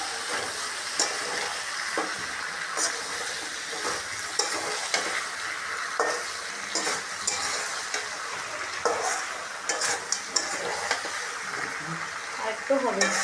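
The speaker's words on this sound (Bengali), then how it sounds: "এখন আমি নেড়ে নেব।" Native chicken with spices sizzles and fries in a pan as it is stirred, with repeated scraping and clinking of a spatula against the pan over a constant hiss.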